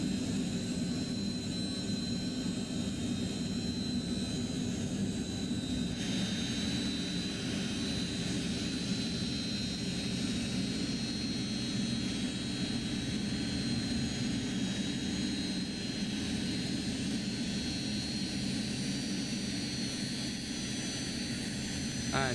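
Steady roar of Lockheed JetStar jet engines in a flight simulator game, a continuous loud whine and rumble holding even throughout with no talk over it.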